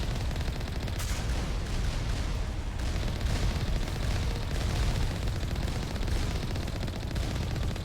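Turrets in Mass Effect pour sustained fire at the player, a relentless, dense machine-gun rattle with booming impacts that runs unbroken and loud throughout.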